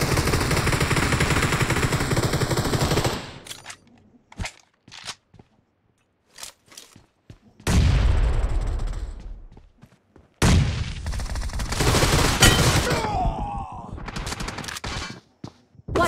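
Gunfire in the mobile battle royale game Battlegrounds Mobile India, with loud sustained bursts, scattered single shots and short gaps of quiet between volleys.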